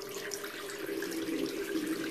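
Tap water runs steadily into a bathroom sink while someone wets their face during a nightly facial cleansing routine, a continuous close splashing flow with no talk.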